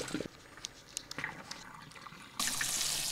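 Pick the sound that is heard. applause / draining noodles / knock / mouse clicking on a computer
draining noodles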